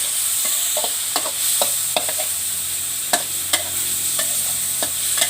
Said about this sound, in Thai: ใส่น้ำปลากับแม็กกี้ลงไปแล้วก็คนนะคะ ผัดให้หมูสุก